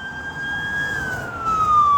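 A wailing emergency siren sweeps slowly downward in pitch, moderately loud over low traffic rumble.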